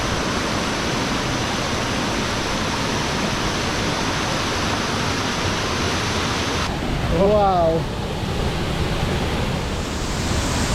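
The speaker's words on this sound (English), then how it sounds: "Pretty good looking waterfall" A waterfall in the wild hills of northern Thailand, a loud, dense, continuous roar of falling water that fills the whole clip, with a brief exclaiming voice over it.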